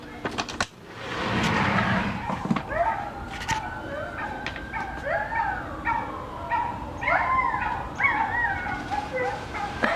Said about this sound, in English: This is what the dogs in my neighborhood do every time a siren goes by.